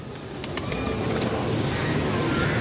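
A pigeon is released and takes off, with a few quick wing flaps and faint coos over a steady outdoor rumble, close and fairly loud.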